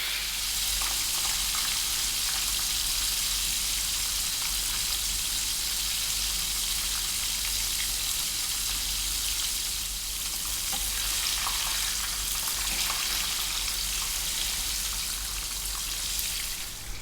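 Six-spice fish shallow frying in a pan, a loud, steady, dense sizzle and crackle that runs unbroken throughout with no voices.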